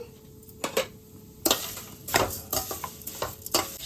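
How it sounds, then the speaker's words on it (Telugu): Vermicelli (semiya) fries in ghee in a pan while a spoon stirs it, giving a soft steady sizzle broken by repeated scraping and clinking strokes, close and fairly quiet, with no talk. "అదే నెయ్యిలో మనం సేమియా వేయించుకుందాము"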